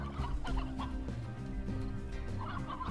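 Chickens cluck and squawk continuously in the video game Slime Rancher, a busy flock of game fowl calls layered over steady background music with no talk.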